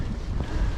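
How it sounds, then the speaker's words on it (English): Wind roars across the microphone on a Cannondale Topstone gravel bike ride on a muddy, wet day, a short, continuous low rush of buffeting with no speech. "it's a windy old day"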